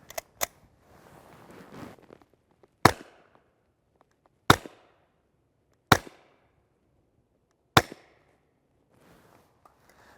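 Suppressed Ruger 5.7 pistol firing 5.7x28mm 62gr FMJ subsonic rounds: four sharp, fairly loud reports spaced a couple of seconds apart after two quick opening pops, each with a brief tail and quiet gaps between.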